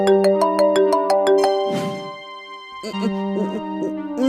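An incoming call sets a phone ringtone chiming in a bright, repeating melodic pattern, loud and close, with a short pause before the tune starts again.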